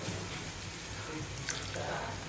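Half a glass of water pours into frying masala in a pan, a rushing splash followed by faint sizzling and bubbling, close and moderately loud, no talking.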